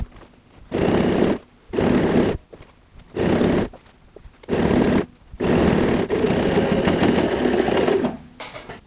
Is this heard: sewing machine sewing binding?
yes